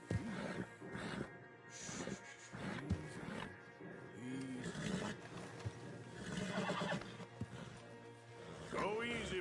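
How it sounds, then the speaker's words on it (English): Horses in Red Dead Redemption 2 whinny and snort several times over a low ambient bed, loud and close, while someone speaks intermittently. "Javier, you're going to lead the stallions."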